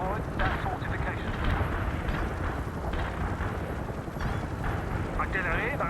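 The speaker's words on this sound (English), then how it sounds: "We can start a heavy barrage." An artillery barrage in the World in Conflict strategy game, set in France: continuous heavy rumbling of shelling and distant explosions, steady and loud throughout, with radio-style voices talking over it.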